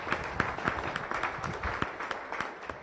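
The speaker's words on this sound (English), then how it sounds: "Would you please stand up so we can give you a round of applause, please?" Scattered hand claps ring out at a Rotary Club meeting, a modest, fairly quiet round of applause with distinct individual claps across the room.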